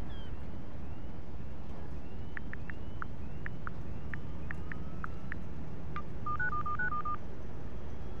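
Electronic beeps and tone sequences as a phone unlocks a laptop in the racing game Need for Speed Heat, short chirps followed by a stepped melodic run, fairly faint over a low background hum.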